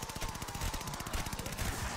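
Rapid automatic gunfire in the Call of Duty: Vanguard zombies mode, a fast, even rattle of shots repeating throughout at a moderate level, with no talk.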